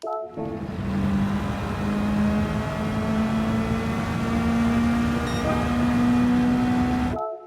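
A racing car engine held at high RPM in fourth gear in Gran Turismo 7 at the Red Bull Ring, a loud steady whine rising slowly in pitch, sustained alone for several seconds.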